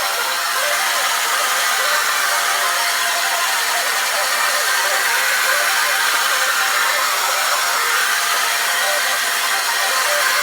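A hair dryer blows steadily while hair is styled with a round brush, a continuous close, loud airy whoosh with a faint motor whine and no talking throughout.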